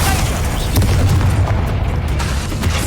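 Confringo fire spell blasts in Hogwarts Legacy, a dense continuous rumble of booming explosions with heavy low-end roar sustained throughout, loud and close with combat clatter layered on top.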